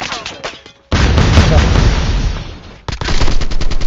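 Loud video-game gunfire: an opening rapid burst, then a long dense roar of shots, a brief pause, and another rattling automatic burst, close and heavy.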